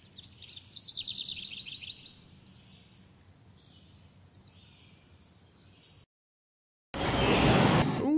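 Outdoor forest ambience with bright chirping birdsong over a low steady hum, a quieter stretch, brief silence, then a loud burst of dense chirping at the end.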